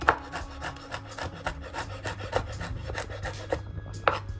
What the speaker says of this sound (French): On va simplement les hacher un petit peu, noisettes et amandes.